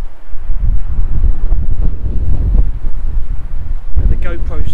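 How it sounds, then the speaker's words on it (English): Strong wind on an open beach at Littlehampton, pressing on the microphone: a loud, continuous low rumble with gusty buffeting, and a voice briefly heard near the end. "let me do a quick wind test"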